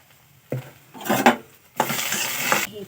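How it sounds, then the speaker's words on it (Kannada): Oil hits a hot kadai for a cucumber stir-fry, giving short, close sizzling bursts with light metallic clinks and scraping. The bursts come in two main spells, and no one talks. "ಎಣ್ಣೆನ ಹಾಕೊಳ್ಳೋಣ."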